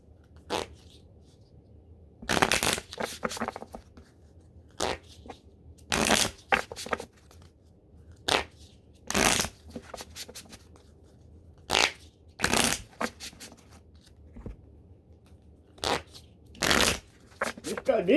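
A thick tarot deck shuffled by hand in repeated bursts of riffling and slapping card noise, close up, with quiet gaps between the bursts and a voice talking at times.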